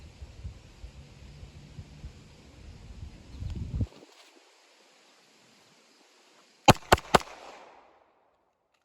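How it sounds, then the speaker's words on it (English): A pistol fires three quick rounds, sharp and loud cracks closely spaced near the end, following a stretch of low rumbling handling noise and then near silence. "I'll just fire off a few rounds for you guys."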